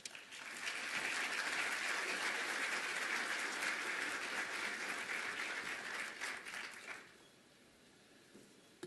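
Audience at the World Health Care Congress 2015 applauding to welcome keynote speaker Steve Forbes: steady, dense clapping from a large crowd for about seven seconds, then fading quickly to quiet room tone.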